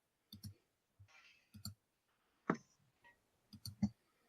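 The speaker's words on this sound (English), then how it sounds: "I got distracted by it was like hypnotic clicking" Sharp, close clicks come in small irregular clusters against near silence, with brief gaps between the bursts.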